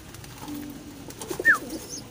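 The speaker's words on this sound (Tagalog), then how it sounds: "Balik na natin sa kulungan mga kalapatids." A pigeon in a loft gives a single brief coo-like call over a faint background of quiet rustling, with no voices.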